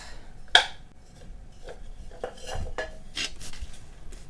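A terracotta pot gets handled during houseplant repotting: one sharp ringing clink near the start, followed by faint scattered scrapes and knocks against a quiet background.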